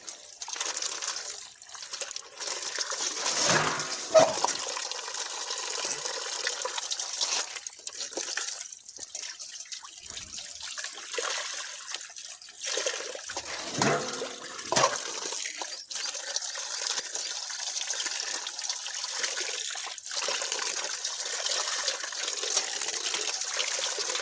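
Dye water drains from a pot after a scarf is dyed at home, a continuous close pouring and trickling stream with brief gushes and drips.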